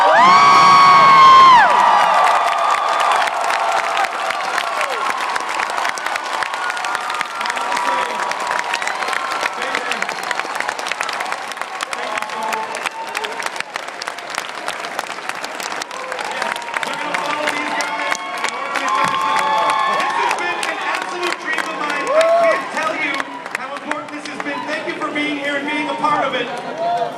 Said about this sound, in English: Would you please leap to your feet and give me a huge round of applause for the Star Wars?